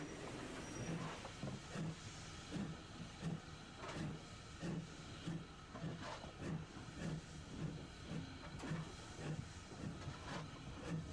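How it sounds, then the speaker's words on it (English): A Bulleid Pacific steam locomotive and its train at Seaton, a faint distant rumble with rhythmic clickety-clack of wheels over rail joints and a soft hiss, heard alone without voices. "The bullied Pacific is uncoupled and moves off, while the train is taken on its way to Seaton"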